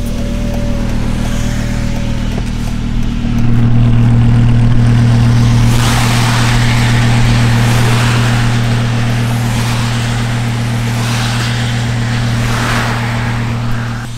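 Inside a Lamborghini Huracan towing a broken Mercedes-Benz, a steady, loud engine drone hums under the cabin, swelling slightly as the car picks up speed and then holding a constant tone.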